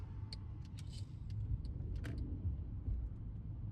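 Cars idle and creep along in a traffic jam, a low, faint engine rumble with a few light clicks and knocks above it.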